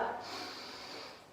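A single quick, audible inhale through the nose during a hatha yoga pose, an airy, hissing breath that fades over about a second.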